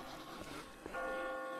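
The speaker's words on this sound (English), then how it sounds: "I just got spooked by those bells" Bells ring in The Walking Dead video game, a sustained tonal clang swelling in near the end over a murky ambient background.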